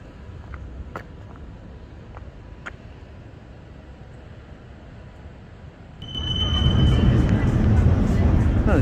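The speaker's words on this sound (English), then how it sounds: "The train heading over the Borough Market." A train rumbles onto the rail bridge over Borough Market in London, rising suddenly into a loud low roar with a high metallic wheel squeal, after a stretch of quieter street ambience.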